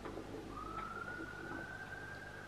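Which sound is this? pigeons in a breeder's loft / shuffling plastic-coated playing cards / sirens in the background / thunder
sirens in the background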